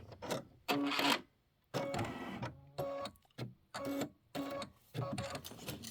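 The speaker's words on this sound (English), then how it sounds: "we're going to put in the linen, and it's going to stitch out the frosting detail" An embroidery machine stitches a frosting detail onto linen in rapid bursts of mechanical whirring separated by short pauses, fairly quiet and close, with no talking.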